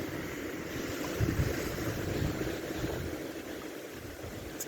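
Ocean surf rolls along the Shizuoka coast beside a roadside walk, a steady washing roar with wind buffeting the microphone and no talk.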